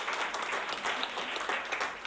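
Applause from an audience at a talk or prize event, continuous crowd clapping that stays fairly even and slightly distant for the full couple of seconds.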